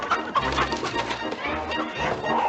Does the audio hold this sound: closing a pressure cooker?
no